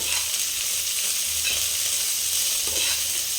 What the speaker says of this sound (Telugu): ఇలా వెజిటేబుల్స్ అన్నీ హై ఫ్లేమ్ మీద మాత్రమే ఫ్రై చేయాలండి.